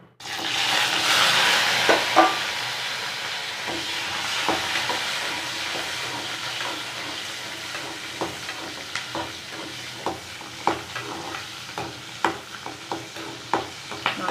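Onion and garlic sauté in oil in a kadai, a hissing sizzle that swells early then settles, punctuated by regular sharp stirring scrapes and clinks; no voices.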